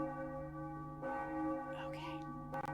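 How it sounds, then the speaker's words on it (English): A church bell in the Enigmatis hidden-object game rings with a sustained, resonant metallic hum and lingering overtones, a second soft strike near the end, heard close and fairly quiet. "the bell keeps ringing"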